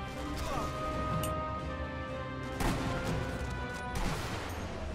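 Sniper rifle shots from the video game Sniper Elite V2 come as sharp bursts about twice, each cracking out over a quieter, steady game soundscape.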